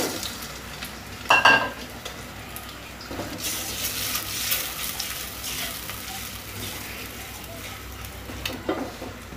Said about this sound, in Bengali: আমি একই সঙ্গে ডিম আর পেঁয়াজ রসুন কুচিগুলো ফ্রাই করে নিচ্ছি